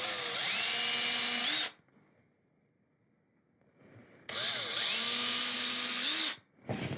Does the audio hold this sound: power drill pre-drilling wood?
yes